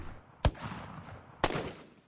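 Two distant gunshot sound effects, about a second apart, each a dull crack trailing off into a soft rolling echo.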